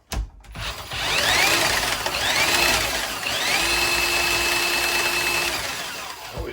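A Bauer 20V cordless automatic feed drain cleaner whirs loudly and steadily for several seconds, its motor pitch rising and settling in a few surges before spinning down to a stop.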